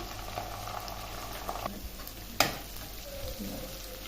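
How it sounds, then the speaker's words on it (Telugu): Chillies and ginger paste fry in a pan for rajma curry, a steady soft sizzle with occasional stirring scrapes and one sharp clink of a utensil. "కొద్దిగా మిరపకాయలు అల్లం పేస్ట్ వేసి బాగా వేగనిద్దాము"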